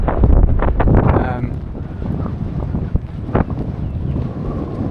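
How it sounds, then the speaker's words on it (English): Strong wind roars and buffets the microphone in a constant low rumble, with a few faint voice fragments beneath the gusts. "It's very windy out here."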